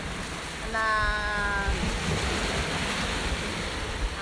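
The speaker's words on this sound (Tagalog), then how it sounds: "Ayan, oh, maano yung alon eh. Maalon. Maalon ngayon." Rough sea waves wash and break at Church Bay beach in Bermuda, a steady broadband surf roar with wind buffeting the microphone and a brief tonal sound near the start.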